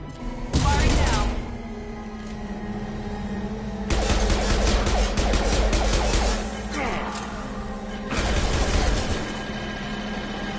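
Gunfire in the video game Mass Effect 2 during an assault on Omega Station, with three loud bursts of rapid automatic shots separated by short pauses and a steady game hum underneath.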